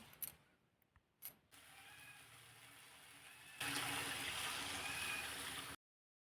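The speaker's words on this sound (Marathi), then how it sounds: "आता यामध्ये घालायचं आहे पाणी" Water is poured into thick, sautéed gravy for a thin curry (amti), giving a steady, fairly loud rushing splash that starts after a few quiet clicks and runs for about two seconds before cutting off.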